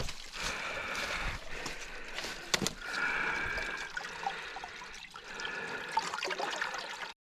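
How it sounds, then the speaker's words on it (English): Water leaks from an IBC tote, trickling and splashing steadily nearby, a continuous gurgling flow with a few small knocks and rustles, no speech. "I don't like that water leaking out of there."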